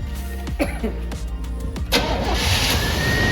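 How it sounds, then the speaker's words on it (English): Car engine cranking and catching after a five-quart automatic transmission fluid refill, a few starter turns followed by a steady close idle with a loud rumble. "we're going to start the car"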